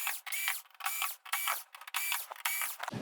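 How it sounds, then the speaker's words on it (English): Screws being removed from a board inside a Sony XBR-65X900F television, a repeated whirring and ratcheting of a driver in short bursts, close and fairly quiet, with no talk. "Let's get these screws out and we'll be finished here."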